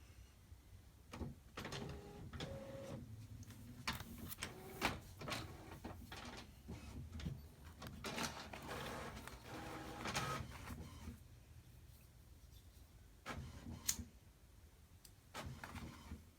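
A printer printing paper sheets for making miniatures runs slowly, giving repeated mechanical whirs, clicks and feed thumps at irregular intervals, fairly quiet and close, with no talk.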